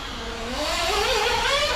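A LaDe88 S88R RC motorcycle's small electric motor whines steadily, rising and falling in pitch as the bike circles around to set off again, close by and alone.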